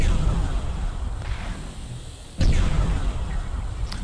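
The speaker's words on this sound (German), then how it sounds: "Bei mir explodiert schon wieder alles." Explosions in the video game Borderlands: a deep rumbling blast fades out, then a second sharp, loud explosion bursts and rolls on, with faint talk underneath.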